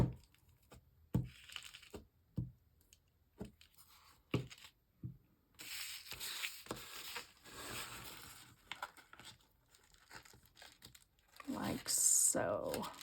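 Paper for a junk journal is folded back over on itself and handled, producing scattered close crinkles and rustles between quiet gaps, with a longer burst of crumpling near the end; a person talks softly in between.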